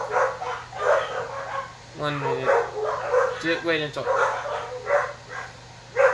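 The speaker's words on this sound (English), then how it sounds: "Oh, sorry about dogs." Dogs bark and yip intermittently in the background under ongoing talk, with a higher whining or yelping burst partway through.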